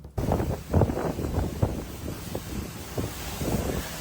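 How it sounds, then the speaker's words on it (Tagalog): Strong typhoon wind roars and buffets the microphone in gusting, uneven waves, loud and continuous with no voices. "Grabe yung hangin"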